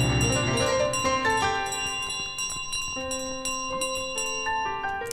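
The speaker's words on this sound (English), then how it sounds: "We ring the bell." Repeated metallic bell strikes ring out in Untitled Goose Game, each clang leaving long sustained tones that overlap, producing a loud, rhythmic chiming with no talk.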